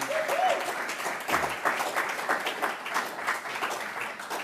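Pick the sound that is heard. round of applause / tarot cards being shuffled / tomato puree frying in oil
round of applause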